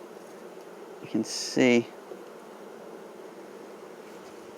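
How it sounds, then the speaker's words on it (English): Honeybees swarm around an open foundationless brood box in a Flow Hive, their steady close buzzing forming a continuous drone while someone speaks briefly over it. "there's lots of bees."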